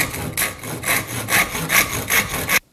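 A handsaw cuts through the top of a wooden axe handle in steady back-and-forth strokes, about six rhythmic rasping pulls, close and loud, stopping abruptly at the end.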